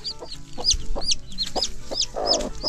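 Hen with three chicks on a farm, clucking in repeated short bursts while high chick peeps chirp throughout, close and fairly loud with outdoor background.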